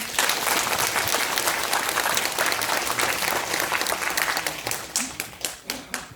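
An audience at a public housing district briefing applauds in a dense, steady burst that thins toward the end into a few separate claps.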